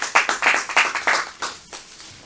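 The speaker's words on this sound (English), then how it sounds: "Let us give a big round of applause for this informative session we had." Applause at a club session, a short run of about eight distinct handclaps in a steady rhythm, close and fairly loud, before trailing off.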